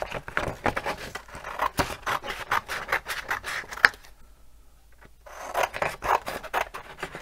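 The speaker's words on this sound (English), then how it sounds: "this is my darkest color, and I just cut each strip out." Scissors cutting strips from painted paper, with a rapid series of rasping snips, a short pause, then more cutting close to the microphone, with no talking.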